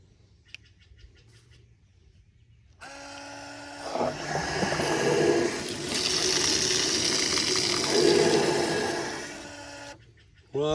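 Water purging through the valves of a pressure system filter: a valve clicks, then a loud, steady hissing rush of water runs for several seconds with a whining tone before cutting off abruptly.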